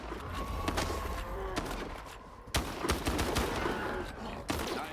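Gunfire in a swamp-set shooter video game: repeated sharp shots and bursts spread across the stretch, loud and close, with bright cracks around the middle and near the end.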